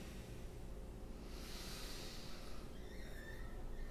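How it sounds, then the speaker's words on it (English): Deep breathing during a kundalini yoga session, one long, soft, airy exhalation close to the microphone, quiet and unhurried, with no speech over it. "Deepen your breathing. Deepen the exhalation."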